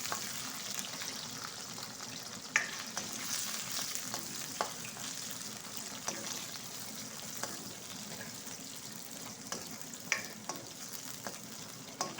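Aromatic spices fry in oil in a pan for goat curry, with a steady soft sizzle and occasional light clicks of stirring throughout, fairly quiet.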